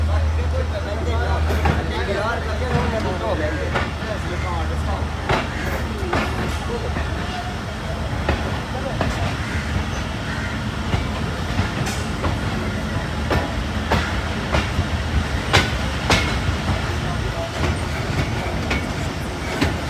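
Chenab Express passenger train running on rails between Sargodha and Mandi Bahauddin, steady rumble with repeated clickety-clack of wheels over rail joints and occasional squeals, heard from inside the carriage with people talking throughout.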